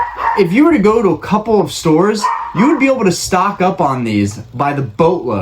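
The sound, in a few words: dogs barking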